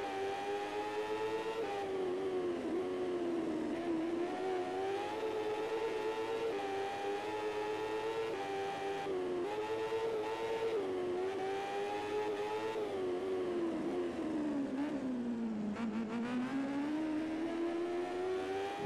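Moto2 motorbike engine in MotoGP14 at Valencia, a steady high-pitched whine rising and falling with throttle and gear changes, dipping near the end before climbing again, continuous and close with no talk.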